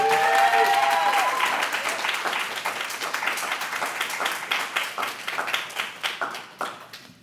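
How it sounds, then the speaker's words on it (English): An audience at a poetry reading bursts into applause, loud and dense at first, then tapering into fewer, separate claps as it dies away. "Give a round of applause for Raina Leon."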